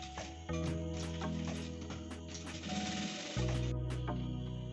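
A sewing machine stitches fabric for a decorative tassel, its motor whirring in steady runs with brief pauses and restarts, moderately loud and close.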